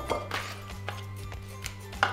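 Knife chopping fresh green onions on a cutting board for kısır, a few light, irregular taps at moderate distance over a low steady kitchen hum, fairly quiet, with no talk.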